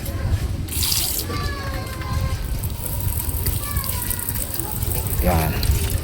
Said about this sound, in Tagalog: Buhusan ko lang ng tubig yan.